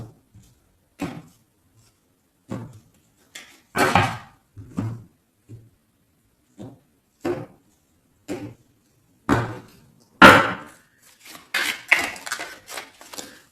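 Tarot cards being cut and shuffled by hand, separate dry shuffling and tapping bursts spread out with quiet gaps between them, close and without speech.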